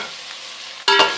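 Chopped tomatoes drop into a pan of frying onions with a sudden loud sizzle that bursts up after a quiet moment and stays bright and crackling as they are stirred.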